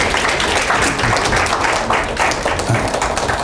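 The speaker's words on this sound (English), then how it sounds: "let's clap our hand to give him our welcome" A lecture-hall audience applauding to welcome a speaker, steady dense clapping that stays loud and sustained without a break.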